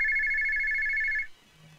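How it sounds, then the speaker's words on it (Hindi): A telephone rings with a steady, bright electronic tone for about a second and a quarter, then cuts off, leaving quiet room tone. "ये बेवक्त किसका फोन है?"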